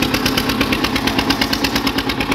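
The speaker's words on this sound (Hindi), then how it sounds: "बढ़िया जोर मार रहा भाई ट्रैक्टर" Eicher 242 tractor engine labouring under load while pulling a heavily loaded cart, a loud, close, steady chugging with a fast regular beat that keeps on without a break.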